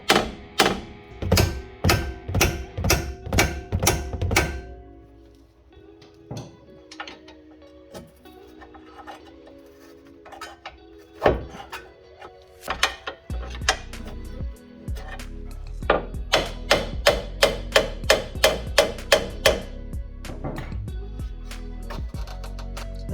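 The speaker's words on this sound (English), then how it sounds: "I'm just going to drive a wedge into here, just to open up that knuckle a bit" Metal hammer blows driving a wedge into the steering knuckle of a 2006-2012 Mitsubishi ZH Outlander, sharp ringing strikes in quick rhythmic bursts, a quiet pause, then another fast run of heavier hits near the end.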